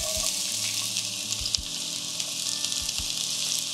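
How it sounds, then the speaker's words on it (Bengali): Thinly sliced onions frying in hot oil over a low to medium gas flame, a continuous hiss of sizzling with faint low clinks, steady and fairly close with no voices. "তেল ভালো মতন গরম হয়ে যাওয়ার পর আমি ফোড়নে আর জিরে টিরে কিছু দিচ্ছি না, দিচ্ছি 2টো ছোট সাইজের স্লাইস করে কুচিয়ে নেওয়া পেঁয়াজ"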